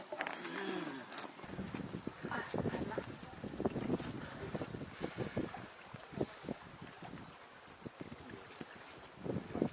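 A dinghy rides on open water off an old car-free African coastal town, wind gusting hard across the microphone with splashes and knocks of the hull, faint voices now and then.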